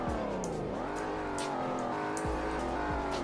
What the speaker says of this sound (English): let's actually give this car a little bit of a rev test and see what it gives us